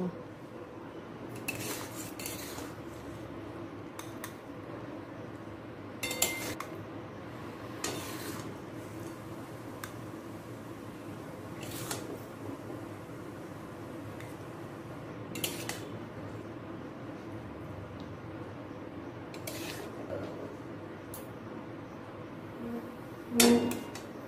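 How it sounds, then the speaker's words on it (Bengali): Egg curry being moved into another dish, light clinks and scrapes of metal utensils against pots at intervals over a quiet room hum, with a louder clatter at the end. "এবার অন্য পাত্রে তুলে নেব"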